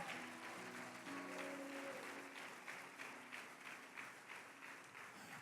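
Church congregation applauding during a Spanish-language service, steady broadband clapping that fills the whole stretch at moderate level, with a sustained held tone underneath early on.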